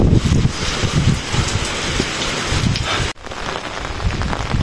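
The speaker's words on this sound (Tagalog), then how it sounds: "lakas talaga ng hangin" Heavy rain pours steadily with gusts of strong wind during a typhoon at a carrot farm garden, a dense continuous roar that drops out briefly near the end before resuming.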